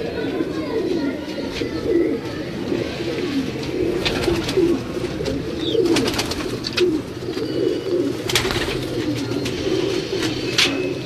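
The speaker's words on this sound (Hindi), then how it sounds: "अभी आपको उस्ताद जी के स्लेटी कबूतर दिखाते हैं जो ब्रीड उन्होंने बनाया है।" Slate-grey pigeons of a bred line coo steadily in a loft setup with nesting boxes for pairs, a low murmuring chorus running throughout with a few brief higher chirps and clicks over it.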